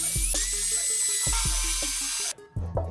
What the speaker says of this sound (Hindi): इसको ड्रिल करने के लिए इस टाइप का ड्रिल बिट का यूज़ करना पड़ेगा, जो टाइल्स को ड्रिल करता है उस टाइप का ड्रिल बिट है ये।